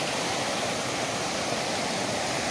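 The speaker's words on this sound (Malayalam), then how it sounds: "തൃപ്പരപ്പ് വെള്ളച്ചാട്ടത്തിൽ നിന്ന് വരുന്ന ആ ഒരു വെള്ളം പോകുന്ന ആ ഒരു സ്ഥലത്താണ് ഞാൻ നിൽക്കുന്നത്" Rain-swollen water rushing from Thriparappu waterfall, a dense, continuous roar that stays loud and even throughout, with no voices.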